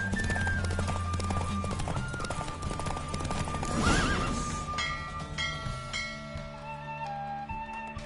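Roach, the horse from The Witcher 3 video game, gallops in a race with a rapid, steady clip-clop of hooves and a whinny midway, all layered over sustained tonal game music.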